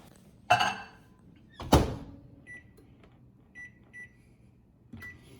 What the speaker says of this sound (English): I'm gonna put it over here in the microwave for about 15 seconds